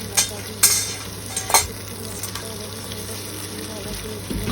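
Onions with ginger garlic paste frying in a pan, a steady sizzle broken by a few sharp stirring scrapes and clinks, fairly close.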